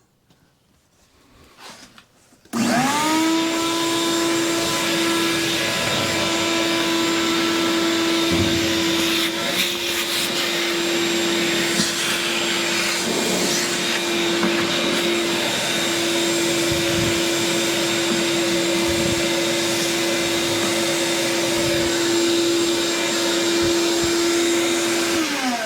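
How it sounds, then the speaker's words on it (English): A vacuum cleaner switches on after a brief quiet moment and runs steadily with a loud, constant motor whine and airflow hum while cleaning a Clayton wood furnace, with occasional knocks and clatter of work underneath. "I'm going to get the vacuum out and get it ready."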